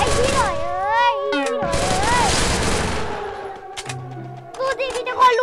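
Rapid bursts of gunfire from the Free Fire battle royale video game, loud and dense, with game sound effects and music around them.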